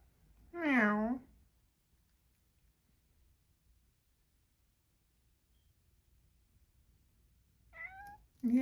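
A cat gives a loud drawn-out meow near the start, then after a long quiet stretch a second shorter meow near the end, close and clear against a silent indoor background.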